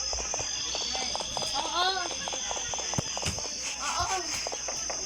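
Steady horse hoofbeats clip-clop while riding in a video game, a continuous rhythmic patter with a few horse whinny-like calls, under a brief spoken word and ambient game sound.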